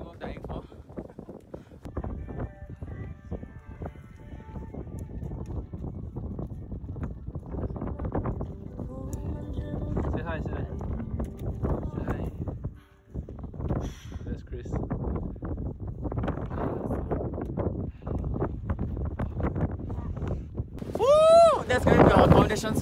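Strong wind roars and buffets the microphone on a mountain trail on the Kepler Track in New Zealand. The gusty rumble is steady throughout, with a brief lull midway and some rustling and footsteps.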